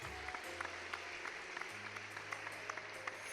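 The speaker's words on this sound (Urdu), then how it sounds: "اپنے لیے بہت زیادہ تالیاں بجا دیجیے گا آپ" Audience clapping, a steady patter of many hands, with a low hum running underneath.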